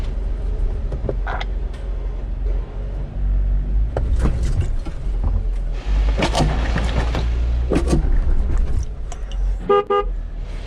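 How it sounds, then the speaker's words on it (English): Car stuck high-centered on a trail near Hut Lake, straining over a spare tire placed in a hole, loud engine rumble throughout with thumps and brief horn-like toots, no talking. "drive over my spare tire to fill the hole on the left"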